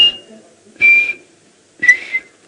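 A person whistles three short bursts imitating a chinspot batis call, each a bright note with a breathy edge, spaced evenly with pauses between.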